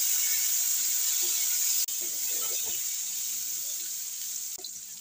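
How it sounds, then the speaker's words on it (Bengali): Steamed, cut potato pieces fry in oil with black cumin seeds, producing a steady, close, loud sizzling hiss with a couple of brief knocks. "আলুটা ভাপ দেওয়া কেটে আলুটা দিয়ে দিলাম"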